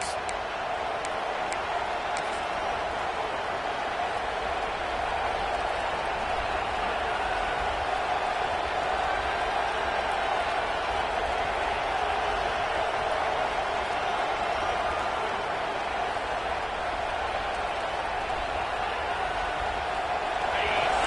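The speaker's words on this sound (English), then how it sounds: "This crowd, full throat, splitting the eardrums and letting them know it's going to be a long day." A packed college football stadium crowd at a game against Nebraska roars at full throat, a dense, unbroken wall of noise sustained for the whole stretch, with muffled voices blended underneath.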